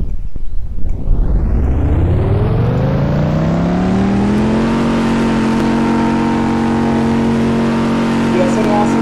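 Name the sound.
BMW M5 car engine revving in Roblox video game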